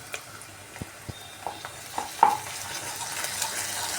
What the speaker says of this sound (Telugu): బాగా ఫ్రై చేసుకుందాము